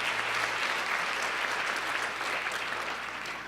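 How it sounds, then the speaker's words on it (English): Sustained applause from a forum audience at a university diversity forum, steady and dense clapping filling the room from start to finish with no voices over it. "So please give them a warm round of applause."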